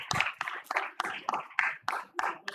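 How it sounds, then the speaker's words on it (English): Claps at a medical scientific conference session, sparse and uneven with a few distinct close hand strikes rather than a full crowd roar, fairly quiet in a hall. "I think you should give a big round of applause to Ashutosh"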